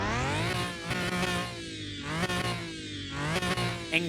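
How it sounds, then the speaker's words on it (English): A Liberty Walk widebody Lamborghini Murcielago V12 tuned to over 1400 hp, revved hard in a garage with a whiny top end: two loud, close rising-and-falling rev sweeps over a continuous engine roar. "Incredibly whiny at the top end for the Murcielago"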